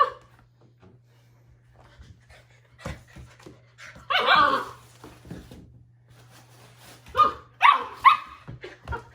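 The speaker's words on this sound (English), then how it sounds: "all this barking, this is not how she plays" A puppy barks and yips in scattered bursts, some loud and close, with whimpering and panting between, over a low steady hum.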